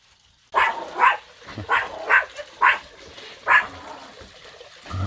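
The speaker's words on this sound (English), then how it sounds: "Now he's barking at it." Dog barking repeatedly at a running water pump, about six short sharp barks in an uneven rhythm close by, with faint trickling water underneath.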